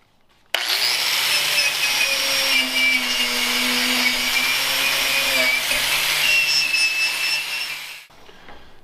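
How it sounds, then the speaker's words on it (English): An angle grinder with a wire brush cleans rusty metal barn door hardware, running steadily at high speed for several seconds, a loud continuous whine with a harsh brushing hiss, then spins down and stops. "Now I'm going to use the grinder with the wire brush to clean them up."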